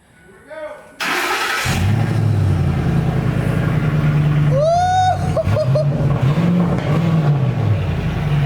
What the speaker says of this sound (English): I'm gonna have my dad turn the truck on right now so you guys can see what it sounds like.